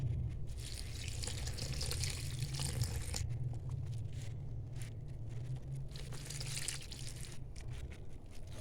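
Steady running water pours and splashes continuously into plain flour dough for dry country biscuits, like a tap filling a bowl, with soft kneading and squishing sounds underneath.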